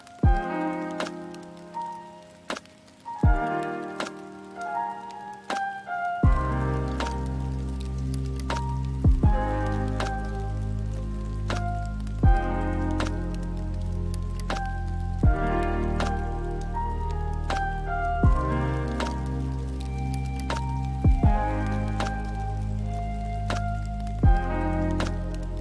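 Rain texture in the outro of a chill lo-fi beat, with melody and bass, plays as a steady wash under repeating sustained chords and bass notes, no voices.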